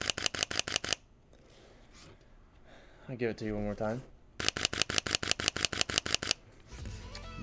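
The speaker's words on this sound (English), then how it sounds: "the sound of the shutter" Rapid bursts of Sony a7 IV camera shutter clicks fire in quick succession, pause while a person speaks briefly, then resume in another fast, crisp burst close up.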